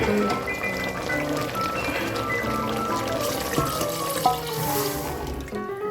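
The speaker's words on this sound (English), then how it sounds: "So right now I put water and I cook for" Water streams into a pot of Naga-style beef intestine curry with a steady splashing pour, heard under continuous background music.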